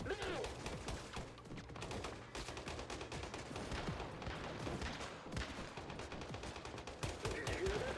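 Gunfire in the Once Human video game, dense bursts of rapid shots and fusillades, loud and nearly continuous with short gaps, close-sounding battle noise.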